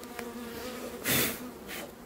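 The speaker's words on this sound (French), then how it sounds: "toutes les abeilles reviennent dessus" Honey bees buzz around hive frames, a continuous close drone with individual bees swelling louder as they pass near, one loud close fly-by in the middle, no voices.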